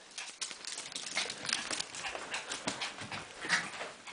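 Two dogs, Isabel and Lucy, chase each other at a dog daycare, with quick pattering paws on the floor and faint whimpers, fairly quiet and close.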